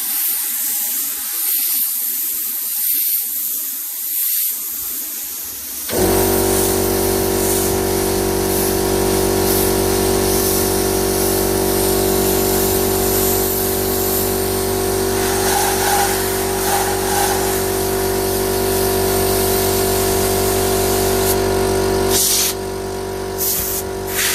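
A garage air compressor blasts air through a Dyson vacuum in a loud, continuous hiss that begins abruptly after a few seconds of quiet rustling and runs steadily before briefly cutting out near the end.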